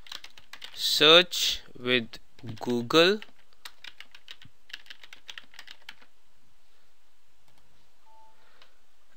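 Computer keys are tapped in a quick, light burst of clicks after a voice speaks briefly, then the clicks thin out to a few isolated taps near the end.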